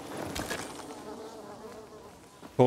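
Bees from a nest in Dying Light 2 buzz close and steady, a dense insect drone that holds for a couple of seconds before a brief louder burst at the end.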